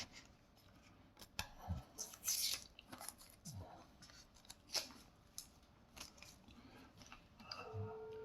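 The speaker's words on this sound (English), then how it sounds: "Let me take this plastic off." Protective plastic film is peeled off a Beelink Gemini T45 mini PC: close crinkling and sharp tearing rustles come in short irregular bursts, with quiet gaps between them.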